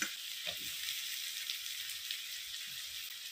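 Chopped tomato tipped into garlic paste already frying in oil while cooking an ol and prawn dish, giving a steady, fairly faint sizzle with a few soft stirring knocks and no voices.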